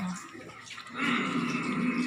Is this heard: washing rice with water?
yes